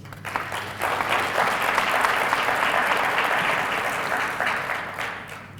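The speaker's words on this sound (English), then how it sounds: "Let's give our graduates a round of applause." A crowd at a graduation ceremony in Windhoek, Namibia, applauds steadily for several seconds, clapping swelling quickly and then gradually tapering off.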